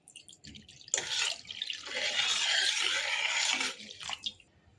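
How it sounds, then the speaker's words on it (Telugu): A little water is poured into cooked dal in a pot as a steady close splashing stream that lasts a few seconds. Faint drips and clinks come before and after. "కొద్దిగా వాటర్ పోసుకోవాలి."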